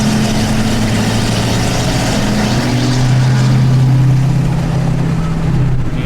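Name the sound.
Ford 6.7 Powerstroke diesel pickup truck downshifting while towing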